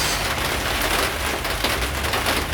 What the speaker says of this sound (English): It's raining right now, so you can hear it's noisy.